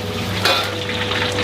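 Nasi goreng kampung frying in a busy restaurant kitchen, a steady close sizzle with stirring scrapes and a brief louder burst partway through.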